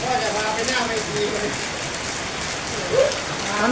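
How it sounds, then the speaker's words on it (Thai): Heavy storm rain pours down in a dense, constant hiss of drops hitting surfaces, loud and steady throughout, with brief faint voice-like sounds mixed in. "ฝนตกอย่างแรงเลย"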